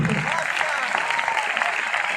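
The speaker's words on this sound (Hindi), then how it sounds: "जोरदार तालियां दोस्तों। तालियां में कमजोरी नहीं, अगर आरडी बनना चाहते हैं तो।" Dense clapping from a crowd at a sales meeting, fairly loud and continuous over its brief span with voices mixed in.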